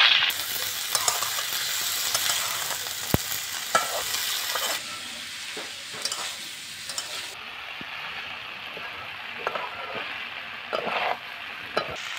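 Beet and potato pieces frying in a pan, a loud, close sizzle broken by repeated scraping and clattering strokes of a spatula stirring, with no talking.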